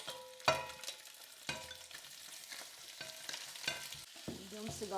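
Meat and bones frying in a heavy iron pot give a quiet sizzle broken by several sharp stirring scrapes spaced about a second apart, with no voices.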